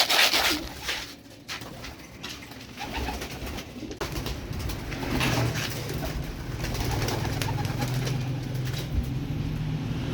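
Trained pigeons kept for daily flying, with cooing and wing rustling close by over a steady low background rumble, no speech.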